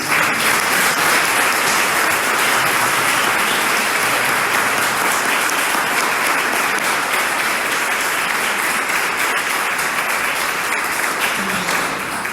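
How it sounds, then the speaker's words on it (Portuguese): A congregation at a Catholic religious gathering gives a sustained round of applause. Dense, even clapping continues at full strength for the whole stretch, with no voices rising above it. "Vamos dar uma salva de palmas para Jesus."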